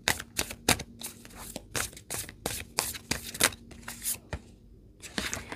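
Tarot cards are shuffled and drawn, a series of quick, close papery riffles and snaps in an uneven rhythm, fairly quiet and without speech.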